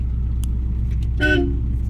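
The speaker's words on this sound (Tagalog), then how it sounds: "Busina mo." A car horn sounds once in a short honk, with a steady low engine rumble underneath, during a driving lesson just after pulling out of a parking space.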